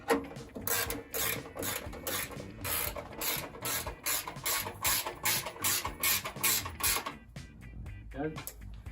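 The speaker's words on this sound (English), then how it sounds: "So I'm just going to use a 10mm ratchet spanner." A 10mm ratchet spanner tightens a bolt while fitting a supercharger sleeper kit on an air-cooled VW engine, giving rapid, close, repeated ratcheting clicks in bursts before stopping near the end.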